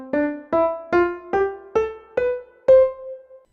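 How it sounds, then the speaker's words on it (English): A musical scale played staccato: seven short, detached notes stepping upward at a steady pace, each clipped off quickly, with the last note held slightly longer, played alone and clearly. "if I were going to play a scale in a staccato fashion"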